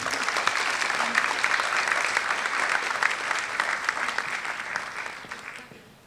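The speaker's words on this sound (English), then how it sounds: "I want to applaud her." Audience applause honoring a teacher at a school awards event, a dense sustained round of many hands clapping that holds steady, then thins and fades out toward the end.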